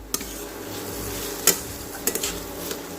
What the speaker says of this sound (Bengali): এবার ভেজে রাখা সবজিগুলো দিয়ে একসাথে আরও দু থেকে তিন মিনিট কষিয়ে নিচ্ছি